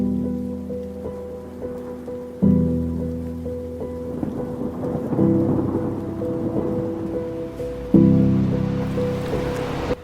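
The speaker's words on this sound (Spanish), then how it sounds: "los rayos solares de hace muchísimos minutos no dejan paso a una tormenta" Tropical thunderstorm over a Gulf of Guinea rainforest: steady, dense rainfall roars throughout while low thunder rumbles and two louder cracks break in, one early and one near the end.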